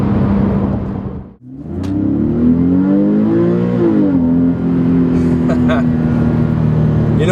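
Porsche 911 997 Carrera S engine revving, a loud close drone that dips briefly, then climbs steadily through the revs before holding a sustained high note, with a brief gear change along the way.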